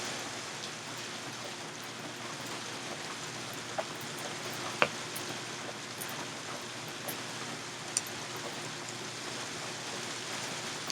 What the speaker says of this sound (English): Is the rain overpowering my my banter